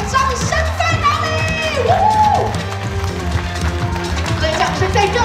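Crowd applause and cheering greet the mayor at an outdoor pomelo harvest festival event in Madou, with a host's amplified voice and background music running over the clapping throughout.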